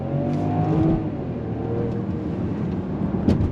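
A 2024 Range Rover Velar midsize luxury SUV on 21-inch wheels accelerates under throttle, a steady engine drone with road rumble heard from inside, no speech.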